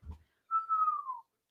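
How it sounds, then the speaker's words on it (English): A single whistled note from a person, held for under a second and gliding gently downward, clear and fairly close, following a brief low thump. "Hey, I whistled."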